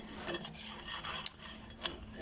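Rough grinding of a hand-forged puukko knife blade before quenching: a steady rasping, scraping texture with several sharper strokes standing out, close and moderately loud with no voices.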